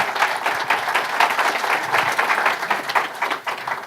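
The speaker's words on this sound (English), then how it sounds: "Let's give him a round of applause." A large audience claps steadily, a dense, loud wash of applause that holds for several seconds without any speech.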